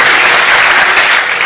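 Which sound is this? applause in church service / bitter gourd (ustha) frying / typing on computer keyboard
applause in church service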